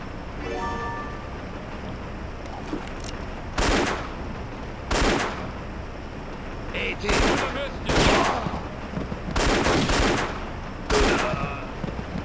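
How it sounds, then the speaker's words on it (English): Rifle shots in the action game The Infernal Machine, aboard a prison boat: several loud, sharp single reports spaced a second or two apart over a steady background hum. "Ah, machine gun. No, no, just a rifle."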